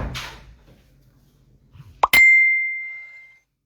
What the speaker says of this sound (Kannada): ಮೆಸೇಜ್ ಸೌಂಡ್ ಅದು.